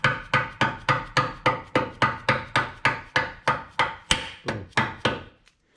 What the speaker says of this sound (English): I take a rubber mallet and I just kind of tap it into place.